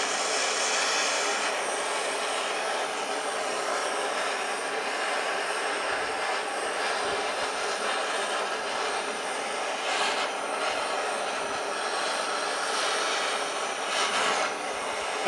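A torch flame heats a piston while a Ford 300 inline six rod and pin are fitted. It gives a steady, loud, close roaring hiss that runs unbroken for about fifteen seconds, with a few faint knocks underneath.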